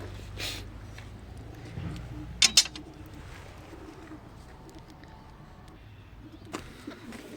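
Domestic tumbler pigeons coo softly in a loft, a low, murmuring throb that runs faintly under the background, with a couple of sharp brief noises midway and another toward the end.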